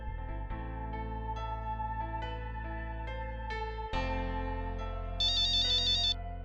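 A mobile phone ringtone plays a steady electronic melody of sustained tones, shifting pitch partway through, with a brighter warbling chime near the end, fairly quiet and alone with no talking.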